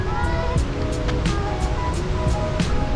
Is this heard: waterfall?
yes